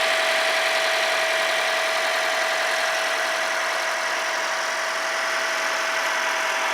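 A 2017 Toyota RAV4 engine idles up close under the open hood, a steady, even hum with a constant whine and no change in pace, no talk over it.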